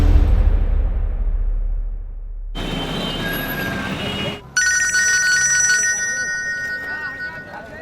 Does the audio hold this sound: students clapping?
no